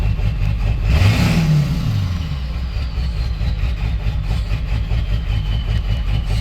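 A 7.3 diesel truck engine with a bad injector idles loud and close, a steady low rumble with an uneven rough beat, briefly revving up and settling back around the first seconds.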